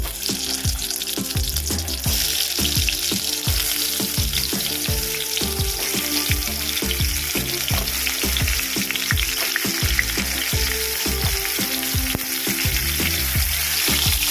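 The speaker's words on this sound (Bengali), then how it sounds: "এটা পাঁচ থেকে সাত মিনিট ধরে একটু ভেজে নেব" Pointed gourd (potol) pieces frying in hot oil in a kadai for doi potol: a steady, loud, continuous sizzle with a regular knocking of stirring running throughout.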